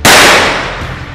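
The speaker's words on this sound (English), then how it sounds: "Firstly, we will use 9mm Uzi to intensively shoot on body armor." A single 9mm Uzi round strikes a body armor vest in a ballistic test, one very loud sharp crack with a short ringing decay and no voices.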